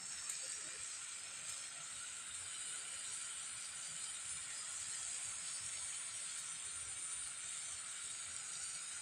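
Fish topped with coriander leaves fries in a pan, a faint, even hiss that continues without a break.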